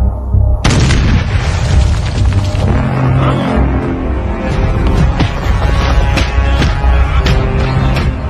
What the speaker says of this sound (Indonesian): tiba-tiba ada suara ledakan